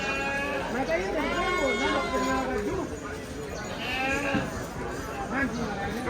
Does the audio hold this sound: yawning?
no